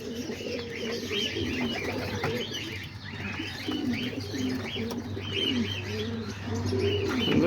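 Homing pigeons coo in low, rolling calls throughout, mixed with soft chirps and occasional wing flutters, a continuous close-up loft chorus.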